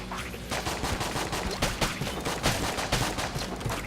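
Rapid gunfire bursts from a bullet-spraying gun in the game Enter the Gungeon, dense, loud and continuous for several seconds with repeated sharp reports.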